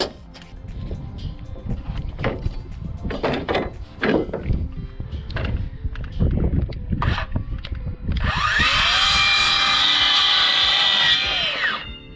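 Power saw cutting cheap furring strip while building siding and a metal roof for a tack shed at a horse shelter, loud steady whine for about four seconds after a stretch of knocking and handling noise.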